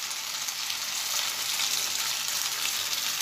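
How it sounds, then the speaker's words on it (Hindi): Kurkure burger patties deep frying in hot oil on a low flame, giving a steady, close, even sizzle that holds throughout with no talk. "तो अब हम इन्हें ऑयल जो है मैंने गर्म होने के लिए रख दिया, तो हम एक एक करके इसे फ्राई कर लेंगे।"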